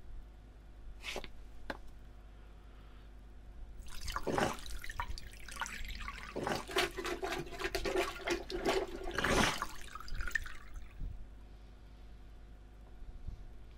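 Water sloshing and splashing as a hand reaches into a toilet bowl in Silent Hill 2, a burst of wet swishing and dripping that swells for several seconds, following a couple of faint drips.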